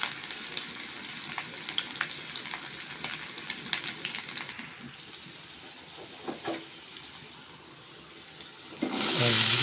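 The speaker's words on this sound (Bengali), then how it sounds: "পেঁয়াজ কুচি দিয়ে দিলাম" Chopped onion frying in oil for a potato bhaji. A crackling sizzle with scattered pops settles into a quieter patch, then a louder rushing surge comes at the very end.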